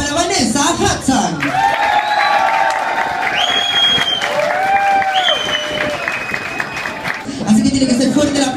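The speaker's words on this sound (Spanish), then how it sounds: "Así que fuerte el aplauso para Vanessa Hudson." Loud studio audience applause and cheering swell for a contestant on a televised casting show, a dense sustained roar of clapping and whoops, with a host talking at the start and end.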